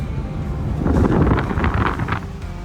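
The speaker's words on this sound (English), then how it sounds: "This is like extreme blast of wind." Strong wind roars and buffets past the open cabin of a moving 1969 Buick Special Deluxe, a loud steady rush with gusty surges and no talking.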